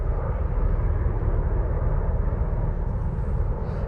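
Military helicopters fly close overhead near coastal military bases, a loud, steady roaring drone of engines and rotors that fills the whole stretch with no talking.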